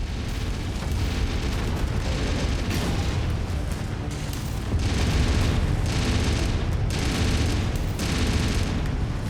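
Mech destruction in the MechWarrior video game: dense, continuous booming blasts and rumbling explosions, with several louder bursts in the second half, layered over heavy low-end combat noise.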